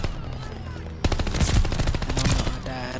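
Rapid bursts of Welgun submachine gun fire in a first-person shooter match, loud and close, with a busy chatter of shots dominating the second half and a voice talking underneath.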